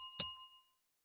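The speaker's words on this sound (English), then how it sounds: "Ring bell for service." A single bright ding from a service bell in a cozy video game, rung once with a clear ring that fades away within about half a second, with no other sound around it.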